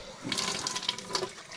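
Hot water from a borehole supply gushing out of a kitchen tap, a close, steady splashing rush with bubbly fluctuations throughout.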